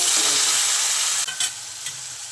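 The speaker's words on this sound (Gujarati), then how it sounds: "તેલ આપણું ગરમ થઈ ગયું છે તો રાઈ નાખીશું, જીરું, ચપટી જેવી હિંગ નાખશું આપણે." Vegetables hit hot oil with mustard seeds, cumin and a pinch of asafoetida, giving a loud, steady close sizzle that eases a little partway through, with a few brief stirring knocks.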